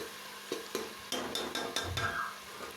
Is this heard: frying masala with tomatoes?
yes